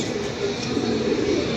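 Pigeons coo softly and continuously at close range in a loft, a low murmuring throb under faint background noise, no one speaking.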